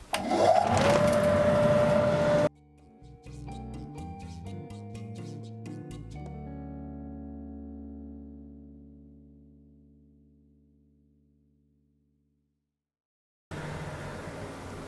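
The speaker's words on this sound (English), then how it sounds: "Let me put the vacuum on" A workshop vacuum extraction system gives a loud, steady motor roar, then cuts out and its whirring tones wind down slowly to silence before the roar starts again at the end.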